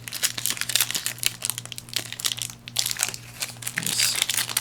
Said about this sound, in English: Some of these packs are tough to open.